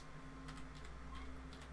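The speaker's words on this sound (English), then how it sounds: "it's better to type it in for me to find it" Rapid clicking of keys on a computer keyboard, a quick irregular run of light taps close by over a faint steady background hum.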